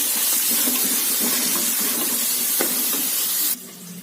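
Onions and mint sautéing in a pan for coconut milk biryani: a loud, even hiss of sizzling close by, with faint stirring taps, cutting down sharply near the end.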